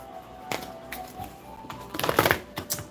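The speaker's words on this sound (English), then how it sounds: "Let me just shuffle." Tarot cards shuffled by hand in a quiet room, giving a few short riffling bursts and soft taps, the busiest flurry near the end, close and fairly quiet with no talking.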